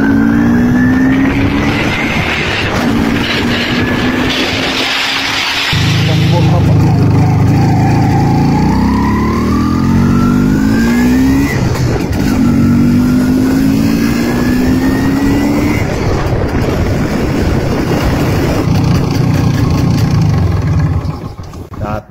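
A two-stroke MZ ETZ 250 motorcycle engine runs loud and close, its buzzing note rising and falling through repeated throttle pulls as it accelerates and settles, continuous throughout.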